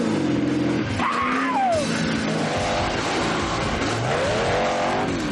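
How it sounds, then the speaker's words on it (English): Souped-up sand speeders race across a desert dune slalom course, their engines roaring steadily and continuously at close range, with rising revs and brief whining pitch sweeps and no talk. "We're about to see our teams test their souped-up sand speeders."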